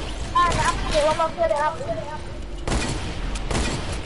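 Gunfire rings out in a shooting video game, with sharp bursts late in the clip after a stretch of someone talking over game noise.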